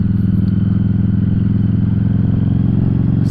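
A Harley-Davidson Street 500 motorcycle's exhaust drones loud and close during a night ride, a steady pulsing low rumble with an even throb that stays constant throughout.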